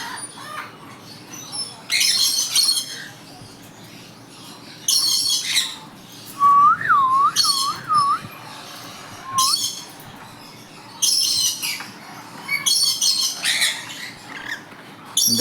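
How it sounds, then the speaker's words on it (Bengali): A pair of yellow rainbow lorikeet parrots kept as pets give loud, close, harsh squawks in repeated short bursts separated by quieter gaps, with one wavering whistled call in the middle. "আজকে দেখাবো তোমাদেরকে আমার yellow colour rainbow lory kids জোড়াটার বাচ্চা"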